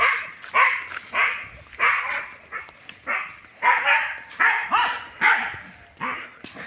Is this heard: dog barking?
yes